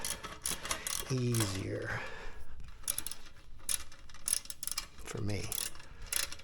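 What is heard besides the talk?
ratchet tightening bolts on home gym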